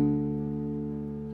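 A perfect octave sounded as a single sustained interval, two notes ringing together and fading gently, heard alone and fairly soft.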